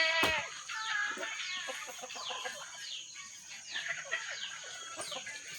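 A broody hen sitting on her nest clucks and grumbles in repeated short bursts, close and fairly loud, with a sharp squawk near the start.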